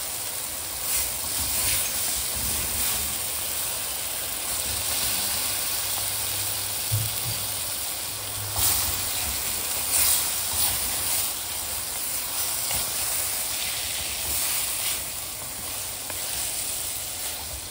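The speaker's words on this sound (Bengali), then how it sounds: "মশলা আর লতি ভালো করে কষিয়ে নিচ্ছে।" Spices, boiled taro stolons and fried prawns sizzle and hiss steadily in a pan while being sautéed in mustard paste, with occasional stirring scrapes heard close up.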